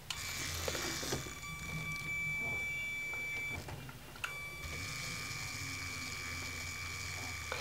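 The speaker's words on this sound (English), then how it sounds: "And now I can motorize up here, which is the winch going up" Motorized Lego Technic crane winch with Power Functions, its plastic gears turning with a steady whirring, ratcheting mechanical drone and whine that briefly stops and restarts as the winch reverses direction.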